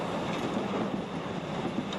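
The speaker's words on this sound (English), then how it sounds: "The train's moving pretty slowly." Steady rumble of a train carriage rolling slowly along the track, a continuous low, even drone with faint rattle and no distinct clacks, heard alone.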